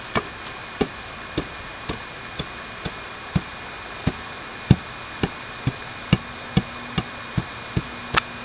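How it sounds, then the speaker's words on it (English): A gravel base for a paver pad is tamped down, giving about twenty evenly spaced sharp thuds repeating roughly twice a second, close and distinct over a quiet background hiss. "I'm just going to tamp everything down here."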